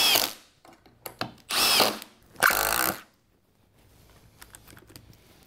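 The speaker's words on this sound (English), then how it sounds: "No problem driving screws." A Milwaukee Gen 3 impact driver drives screws into wood, with three short, loud, rattling bursts of hammering whine, near and close together, followed by quiet handling clicks.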